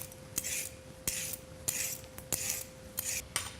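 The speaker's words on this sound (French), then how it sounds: "On va commencer par éplucher les carottes." Carrots being peeled with a peeler in a kitchen, six separate scraping strokes spaced evenly about every half second, close and fairly quiet, with a faint steady hum underneath and no talking.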